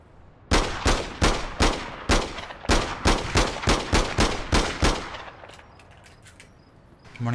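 Gunfire in the online shooter APB Reloaded, a rapid string of about a dozen loud close shots in steady rhythm, then a lull with faint distant pops before another burst begins.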